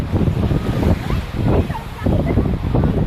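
Calm sea waves wash ashore at Dhanushkodi beach, a loud, continuous roar with rolling surges and wind buffeting the microphone.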